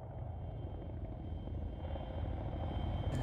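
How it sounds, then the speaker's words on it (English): Chinook helicopter in a military video game, a steady low rotor rumble that holds evenly throughout, close and fairly loud with no talk. "Chinook on the ground."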